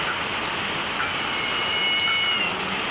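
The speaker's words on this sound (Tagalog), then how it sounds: "Hindi na ata ito titigil tong ulan kasi nga may bagyo ata ngayon." Steady rain pours down during a storm, a dense, even hiss of drops on surfaces continuing without a break.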